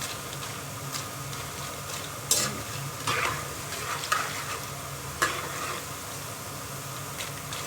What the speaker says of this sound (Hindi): मेरी देखिए क्रंच की आवाज़ आना शुरू हो गई है